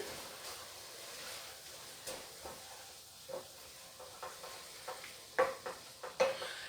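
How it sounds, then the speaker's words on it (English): A spoon stirs onion and food in a cooking pan, soft scrapes and clinks repeating irregularly over a faint sizzle, growing a little louder and busier toward the end, quiet and close, with no talk. "All right, now stir that in."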